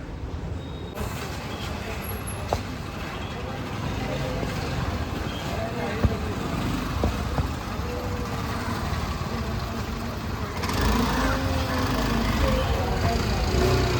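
A car driving along a road gives a steady engine and road hum with tire rumble that swells slightly toward the end, while people talk inside the vehicle.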